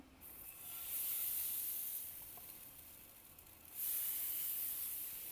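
Batter for a Davangere butter dosa hits a hot griddle with a soft, continuous sizzling hiss that swells twice and fades between, heard alone and fairly faint.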